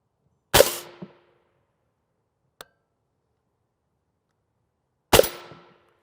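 Two loud, close M855 rifle shots strike a UHMWPE Level III+ ballistic plate several seconds apart, each a sharp crack with a brief ringing tail, and a faint small tick falls between them.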